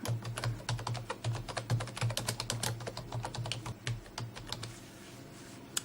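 Rapid keystrokes on a computer keyboard, a steady run of close, crisp clicks at uneven typing rhythm for several seconds with no talk, trailing off near the end.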